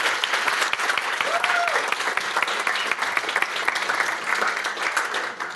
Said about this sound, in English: Round of applause for the healthcare batch.